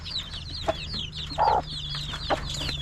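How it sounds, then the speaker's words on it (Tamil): A native country hen gives a few low clucks close by while small chicks peep constantly in the background. "தாய் கோழி வந்து வெளியே வந்துடுச்சு"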